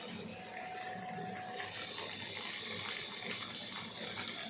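Water left from boiling potatoes is poured into a cooking pan for aloo dum, a steady close splashing gush running throughout without pause.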